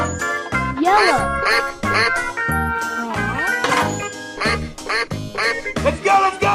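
A cartoon duck from a 3D animal animation quacks repeatedly in short bursts over loud, busy background music with chimes, the quacks standing out clearly in the mix.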